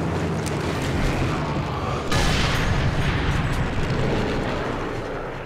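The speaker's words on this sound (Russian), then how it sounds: "Мега быстрый выстрел." A sniper rifle shot in the video game Sniper Elite 3 lands as a loud, heavy booming blast. It swells sharply partway through, then rumbles on and slowly fades, with no voices over it.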